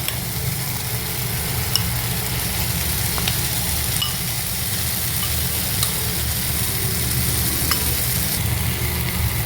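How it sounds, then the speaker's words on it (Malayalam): Ground masala paste for black chickpea kadala masala fries in hot oil in a pan, giving a steady close sizzle with a few light stirring clicks and no talk. "ഇതിലേക്ക് നമ്മൾ നേരത്തെ ഞാൻ അരച്ച് വെച്ചതായ പേസ്റ്റ് ഇതിലേക്ക് ആഡ് ചെയ്യുന്നു."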